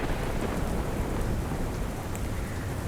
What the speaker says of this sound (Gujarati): ગાંધીનગરમાં ધોધમાર વરસાદ છે